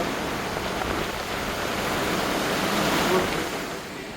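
Steady roar of cold surf breaking on the beach at Scheveningen, The Hague, Netherlands, a dense rushing wash that swells slightly toward the end, with no voices.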